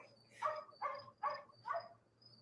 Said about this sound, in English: Hear that? That's a dog.